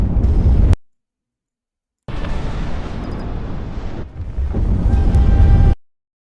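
Explosion effect from the jet combat game Project Wingman, heard as loud, wide, rumbling blasts: a short burst, a gap of silence, then a sustained roaring boom that swells again before cutting off.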